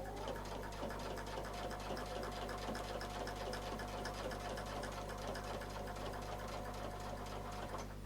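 A quilting sewing machine runs continuously, stitching an echo line around a circle, its quiet, even mechanical whir steady throughout with no voices.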